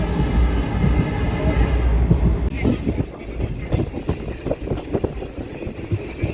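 A delayed passenger train runs along the track, its loud continuous rumble giving way to rhythmic clattering and wheel knocks in the second half, with faint voices underneath.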